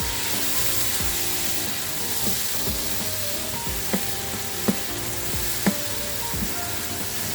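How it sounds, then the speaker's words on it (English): Garlic fries in a pan for a Guyanese fish curry, giving a loud, continuous sizzle with scattered sharp pops and spatters throughout and no voices. "I'll let this fry up until it starts to bubble up."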